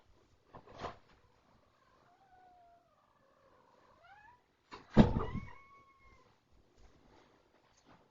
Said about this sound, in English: Sorry, I had to go get my cat.